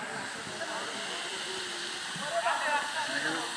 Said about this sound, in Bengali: ঝর্ণা পড়তেছে সুন্দর।